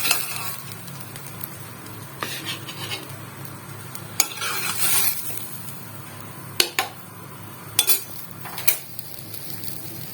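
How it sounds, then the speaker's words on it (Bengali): Metal spatula scrapes and taps as a cooked oats uttapam is lifted from a pan onto a plate, with a soft sizzle underneath and several sharp clinks of utensil against cookware, close and fairly quiet. "এবার আমি প্লেটে তুলে দেবো।"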